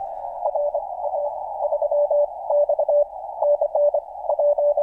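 A CW Morse signal received on a ham radio comes through as a steady keyed tone with a slightly splattered, muddy edge. It sends quick dits and longer dahs in irregular groups, loud and close, with no talking over it.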